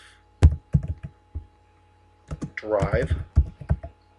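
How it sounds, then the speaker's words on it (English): Keys clatter on a computer keyboard as an address is typed into a Word document. The irregular taps come close, and a person speaks briefly in between. "then we're going to type 1776 Bay Cliff"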